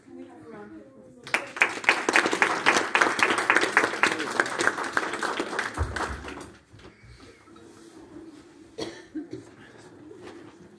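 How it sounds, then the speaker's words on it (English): Audience applause at a church investiture ceremony, lively close clapping from a modest crowd lasting about five seconds, then a sudden drop to soft room noise with scattered coughs and small sounds. "Can we have a round of applause?"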